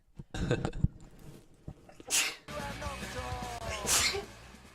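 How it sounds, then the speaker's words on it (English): A quick sharp sneeze bursts out after some sniffing breaths, followed by a long breathy exhale and faint mumbling nearby. "I'm gonna sneeze"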